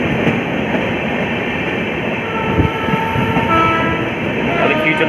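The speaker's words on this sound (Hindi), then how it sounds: "ये डिब्रूगढ़ राजधानी" The Dibrugarh Rajdhani Express, running New Delhi to Dibrugarh, roars past close by in a loud sustained rumble with rapid wheel clatter over the rails, and no voices are heard.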